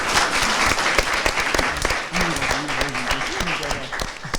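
Audience applause at a French television game show, steady dense clapping from a crowd throughout, with a voice speaking over it partway through.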